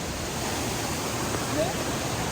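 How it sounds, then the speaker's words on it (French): A steady, roaring rush of falling water fills the clip, broad and constant like a nearby waterfall in Spain. "On entend le bruit d'une cascade"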